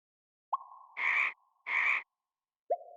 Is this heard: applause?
no